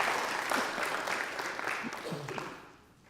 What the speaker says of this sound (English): Well, you don't have to clap.